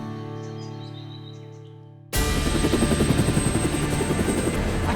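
A helicopter flying over an opera house cuts in suddenly after a quiet hum, then its rotor thumps and engine whine roar loud and close without letup.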